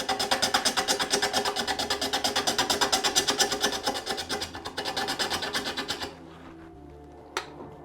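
A woodturning tool is sharpened on a grinder for turning mimosa bowls, giving a steady rhythmic rasping pulse for about six seconds before it stops, then a single faint tap.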